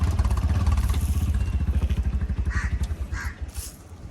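A crow caws a few times in quick bursts over a steady, pulsing engine-like rumble outdoors.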